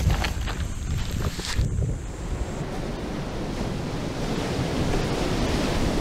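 Rushing water at a dam, a loud broadband roar of churning flow with wind buffeting the microphone, continuous throughout.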